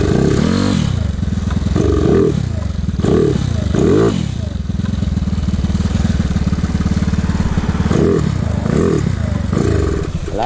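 Yamaha Mio motorcycle with a converted 218cc 4-valve fuel-injected engine, idling rough and misfiring: an uneven putter broken by stumbles and brief surging revs, close and loud throughout.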